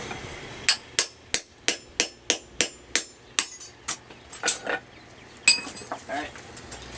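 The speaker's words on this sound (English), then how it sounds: "I'm just going to use my chisel here. Cut it off real quick" A blacksmith strikes a chisel with a hammer to cut off forged iron: a steady run of about a dozen bright, ringing metallic blows at an even pace, then a few irregular, softer knocks.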